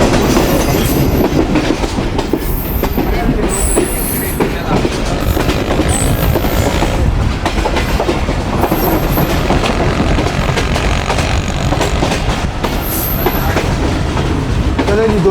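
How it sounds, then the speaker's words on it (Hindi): Sukkur Express train approaching a railway station, a loud continuous rumble and rhythmic wheel clatter heard from on board, with occasional high squeals from the wheels over the whole stretch. "फाइनली पूरे 8:45 बजे ट्रेन हमारी अप्रोच बना रही है रोड जंक्शन रेलवे स्टेशन पर"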